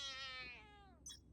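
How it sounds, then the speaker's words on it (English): A cat lets out one short, fairly faint meow that slides downward, followed by a brief high scuffle. "There's a cat."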